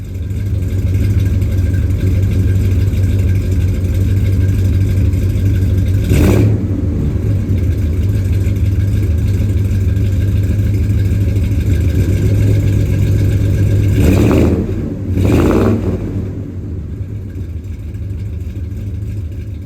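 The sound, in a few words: 1978 Ford F-250 engine with Flowmaster Super 44 mufflers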